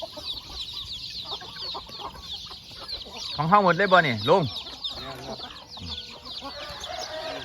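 Chickens cluck and chatter in a busy village flock in Thailand, with a burst of louder bird calls in the middle and someone speaking briefly over the din.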